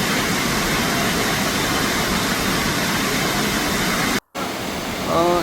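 Satodi waterfall, water pouring down in a loud, unbroken roar that fills the whole clip apart from a brief cut.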